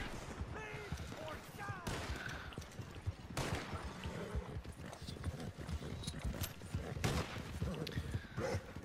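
Gunshots ring out in a Red Dead Redemption 2 Online shootout, several sharp cracks scattered among horse hooves clip-clopping nearby, with a voice talking over the action.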